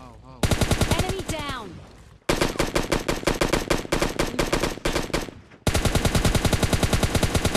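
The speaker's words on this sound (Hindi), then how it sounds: "तो बॉट को भी लगा देते हैं शॉट" Rapid automatic gunfire in PUBG Lite, long loud bursts of evenly spaced shots with short gaps between them and a brief whooshing game effect early on.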